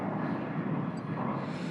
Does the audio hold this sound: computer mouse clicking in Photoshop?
no